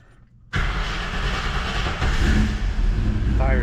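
A 1967 Mercury Cougar daily driver cranks and fires right up after quiet, then settles into a loud, close idle with a brief rev, as someone talks over it.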